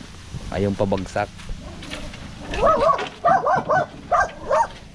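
A dog barks in a quick series of sharp calls near a lakeside, several distinct barks in the second half, with someone talking over the earlier part.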